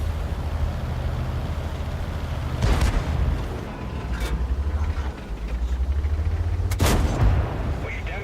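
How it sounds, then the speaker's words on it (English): Artillery shells striking a tank in World of Tanks, heavy impact booms over a steady engine rumble, two sharp hits a few seconds apart. "Hit by artillery."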